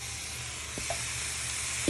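Chicken pieces hiss and sizzle steadily as they fry in a hot pan, a faint, continuous crackle with a couple of small clinks.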